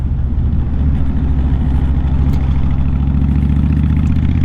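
A Honda VTX1300C V-twin cruiser motorcycle idles close by with a loud, steady, deep rumble and an even low pulsing throb, running alone with no voices.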